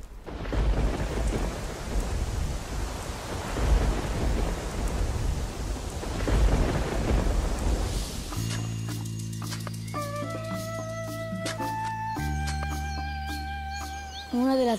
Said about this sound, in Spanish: Puedes andar con polera aunque esté lloviendo.